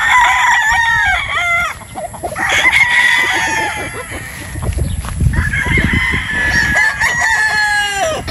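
Several roosters, broodstags, crow loudly in overlapping calls, one after another, with harmonic wavering cries over a busy farmyard background.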